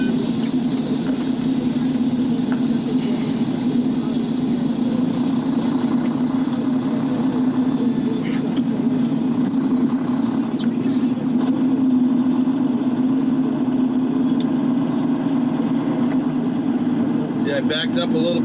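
A semi truck's engine rumbles steadily as the rig backs up through snow, a loud, continuous low drone with faint clicks and rattles above it.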